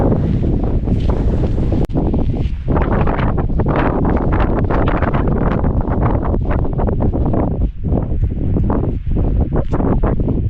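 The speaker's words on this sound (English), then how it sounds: "Wow, it's windy." Strong wind buffets the microphone continuously on top of Kinder Scout, a loud rumbling roar with gusty fluctuations and a brief thump near the start.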